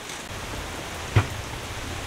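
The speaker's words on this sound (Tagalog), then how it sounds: "Umuulan, mababasa kami." Steady rain falls outdoors at a plant shop during a typhoon, a constant close hiss with one brief thump partway through.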